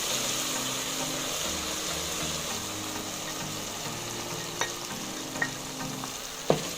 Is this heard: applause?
no